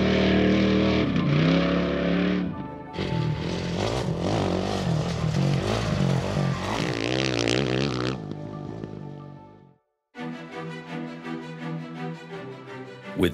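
Trophy trucks and buggies pre-running in Baja: loud, continuous engine roar with revving and passing vehicles, a brief lull near ten seconds, then another engine rising again.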